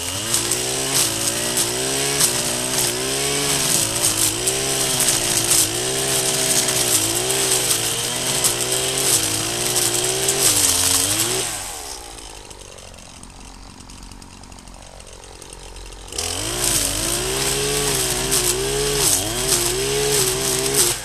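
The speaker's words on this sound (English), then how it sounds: "I put the jet cut head on the strimmer now and smash them with this one" A petrol strimmer fitted with a jet cut head smashes through scrap. Its engine whines loudly and close with a wavering pitch, drops to a lower, quieter tone for a few seconds midway, then picks back up. No one speaks.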